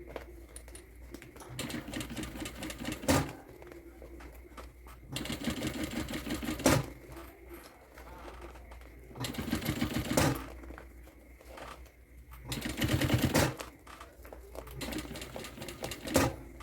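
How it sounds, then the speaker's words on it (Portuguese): A sewing machine stitches a seam along the top edge of a zipper on a small waist pouch, running in several bursts of rapid mechanical chatter separated by brief pauses, close and clear with no talk. "vou rebater uma costurinha aqui nessa borda de cima do zíper."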